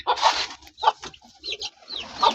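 A hen clucks repeatedly in short, close bursts, with clucking calls scattered in an uneven rhythm.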